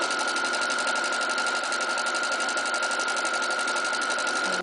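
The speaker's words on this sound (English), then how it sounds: "I'm going to stitch that second seam for my French seam" A sewing machine runs without pause, stitching the second seam of a French seam on a pillowcase dress. Its fast, even whir is close and carries a steady hum underneath, and it stops abruptly at the end.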